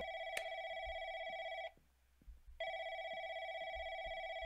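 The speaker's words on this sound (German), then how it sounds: "Wo ist das Telefon, verdammt?" A telephone rings in an office, its electronic bell tone repeating in two long bursts with a short gap between them, loud and close, with no one talking over it.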